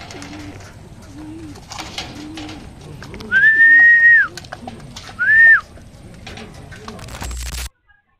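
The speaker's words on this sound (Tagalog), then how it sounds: "At yun ang mga kalapatids" Racing pigeons back from a training toss in Calamba, Laguna give low, wavering coos over a steady background. Two loud, clear whistles sound near the end, and a voice is faintly present.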